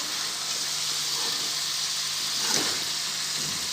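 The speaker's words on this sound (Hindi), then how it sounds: "अब मैं इसके अंदर सब्ज़ी डालूंगी गोभी और आलू की और इसको अच्छे तरीके से मिक्स कर लेंगे" Cauliflower and potato being mixed into chicken frying in a pan, a steady moderate sizzle with a short burst of stirring scrape, no talk.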